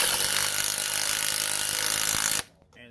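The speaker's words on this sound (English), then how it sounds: "Get your 9/16 socket with the impact gun." An impact gun with a 9/16 socket runs continuously at close range, driving a nut down onto a battery stud in a loud mechanical whir, then cuts off abruptly near the end, leaving quiet.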